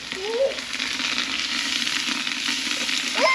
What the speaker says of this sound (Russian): Так, масло кипит.